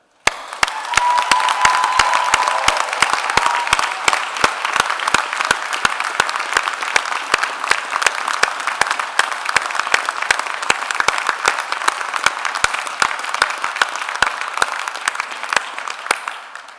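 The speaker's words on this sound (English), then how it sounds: "make one final round of applause for these, our students, and their graduation" A university graduation ceremony audience gives a long final round of applause, a dense, sustained roar of clapping from a large crowd with a few distinct nearby claps and light cheering throughout.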